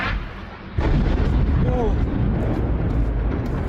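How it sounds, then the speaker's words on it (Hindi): A deep, rumbling explosion blast over Tel Aviv erupts and rolls on as a sustained low roar, loud and booming throughout, with faint voices beneath. "बहुत ही तेज़ धमाका हुआ है, बेहद तेज़ धमाका।"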